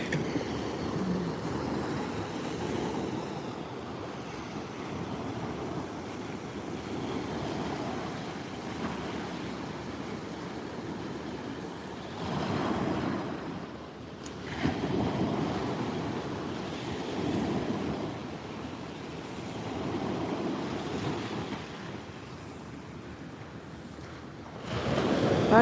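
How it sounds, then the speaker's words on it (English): Ocean waves breaking on a Maui shore at first light: a continuous, rolling wash of surf with several swells rising and falling, moderately loud, with some wind and no talking. "Watching the waves is the best part."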